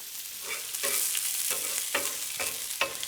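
Chicken frying in olive oil in a pan gives a steady, close sizzle with a few louder crackling bursts, heard alone without talk.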